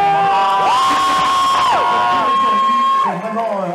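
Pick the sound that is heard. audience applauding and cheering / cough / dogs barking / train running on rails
audience applauding and cheering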